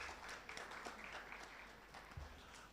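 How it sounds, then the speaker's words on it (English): Audience applause at a university orientation event, a steady wash of many hands clapping at moderate distance, continuous for the whole stretch without speech. "Another round of applause for our Deputy Principal."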